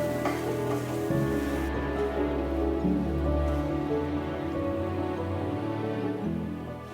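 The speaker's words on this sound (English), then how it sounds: "Give the pan a good stir." Mapo tofu sauce with doubanjiang, cayenne and toasted Sichuan peppercorns is stirred in a hot pan, making a steady, loud sizzle and spatter with soft scraping throughout.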